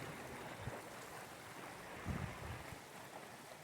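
Mountain stream in Mała Fatra, Slovakia, a faint steady rushing of water with small cascades, continuous and unbroken, with a couple of soft knocks.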